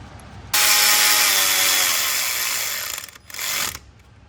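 A wrench working on the oil filter housing bolts of a BMW F30 335i, a loud sustained ratcheting burst of about two and a half seconds, a brief pause, then a shorter final burst, with no talk.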